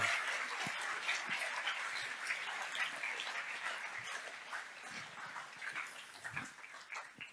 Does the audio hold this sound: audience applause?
yes